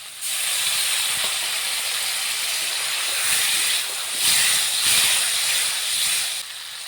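Pointed gourd frying in a pan of spice masala with small splashes of water, giving a loud, continuous sizzling hiss that swells and dips slightly before easing near the end, close and alone.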